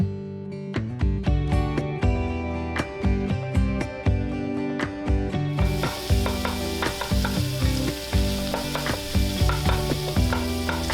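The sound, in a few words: hot Italian sausage frying in leftover bacon oil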